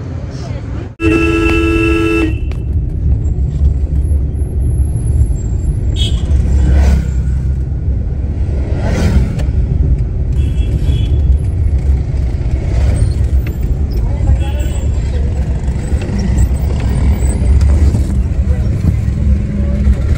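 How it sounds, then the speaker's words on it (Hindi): A car drives along a road near Nainital in cold weather, its steady low engine and road rumble filling the scene, with a sharp horn toot near the start and other faint honks further off. "इस टाइम हम जा रहे हैं घर को गाड़ी से"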